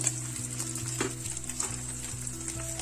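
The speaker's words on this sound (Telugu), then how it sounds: "ఇప్పుడు ఉల్లిపాయ మొక్కలు టమాటా మొక్కలు పచ్చిమిరపాయ మొక్కలు మొత్తం వేసేసుకుని వేయించేస్తున్నాము" Chopped onion, tomato and green chili fry in a pan with a continuous, even sizzle and soft stirring, close and moderately loud, with no talking.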